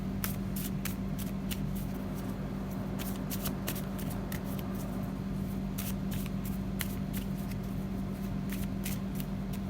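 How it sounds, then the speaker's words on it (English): Continuous papery riffling of black and white tarot cards being shuffled, with repeated crisp flicks and snaps over a steady low hum, close and fairly quiet, no talking. "I'm just going to have a little shuffle of the black and white tarot"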